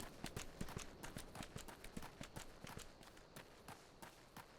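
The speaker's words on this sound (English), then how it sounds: "Their little footsteps are so fucking loud." In Final Fantasy XIV: A Realm Reborn, small characters take quick, loud footsteps in a rapid, uneven patter that keeps going with no talking.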